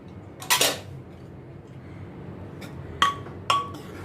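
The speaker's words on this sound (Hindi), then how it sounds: "अभी कुकर का ढक्कन मैं खोलती हूँ।" A pressure cooker lid is handled and opened in a home kitchen while cooking whole moong curry, giving a loud metallic clatter followed by two sharp ringing clinks, close and with no talking.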